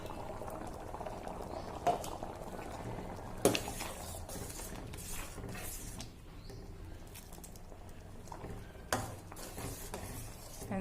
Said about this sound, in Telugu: ఇప్పుడు టమాటా ప్యూరీతో ఇది కూడా ఉడుకుతుంది